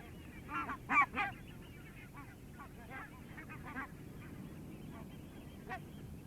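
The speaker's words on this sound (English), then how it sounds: "The barnacle goose" Barnacle geese, small Arctic-breeding geese resting on a flight stopover near the Scotland–England border, honk in a few loud bursts early on, then trail off into sparser, fainter calls over a steady outdoor background.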